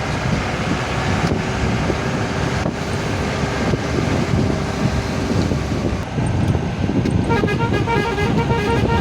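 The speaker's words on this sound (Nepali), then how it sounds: "गाडीले होरेन बजाउँदै बजाउँदै हामी चाहिँ अगाडि बढिरहेका छौँ साथीहरू" A vehicle climbing a mountain road in Ilam, Nepal gives repeated horn toots over a rough, rumbling engine and road noise, with the honks recurring throughout.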